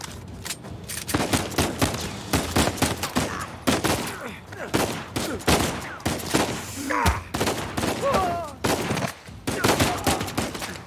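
Dense gunfire in Uncharted 4: A Thief's End, continuous rapid shots and fusillades throughout, close and loud, with brief grunts and game sounds mixed in.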